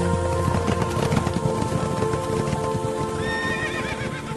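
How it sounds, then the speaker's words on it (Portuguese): Horses pulling war chariots neigh and whinny over steady clip-clopping hooves, loud and close, with rising whinny calls near the end and no talk. "estavam saindo 4 carros de guerra. O primeiro carro era puxado por cavalos vermelhos"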